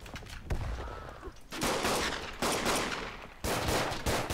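Gunfire in the World War I shooter Verdun: several sharp, loud shot bursts strike at irregular intervals, each trailing into a rough noisy decay, with no talking over them.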